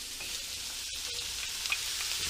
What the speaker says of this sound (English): Looks like we're frying up and we're looking good right now.